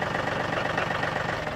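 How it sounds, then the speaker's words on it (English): An old tractor engine idles in a steady, close, rumbling drone with a rough, even chug throughout and no talk. "Beautiful tractor."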